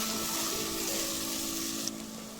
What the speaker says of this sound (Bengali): তেল গরম হয়ে আসলে এ পর্যায়ে রসুন, পেঁয়াজ এবং কাঁচামরিচগুলো দিয়ে ভালো মতো একটু ভেজে নেব।